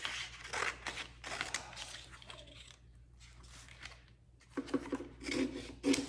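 Scissors snip through patterned paper for a mixed media collage, a string of soft, close rustling cuts that pause briefly midway before quicker crisp snips resume.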